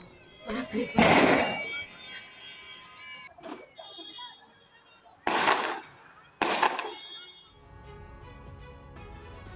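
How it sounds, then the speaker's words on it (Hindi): Gunfire during a shooting incident in the Mokama area of Bihar, with a few loud cracking bursts spaced apart amid voices and background noise. "गोलियों की बौछार से पूरा इलाका थर्रा उठा।"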